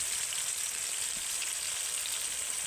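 Chopped ginger and green chili frying lightly in oil give a steady, bright hiss that holds evenly from start to finish with no pauses or voices.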